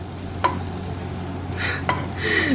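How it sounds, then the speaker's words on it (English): A large block of butter sizzles as it melts in a pan, a steady close frying hiss with a couple of sharp clinks and brief crackling bursts, no talking. "now that the butter is completely boiled, melted"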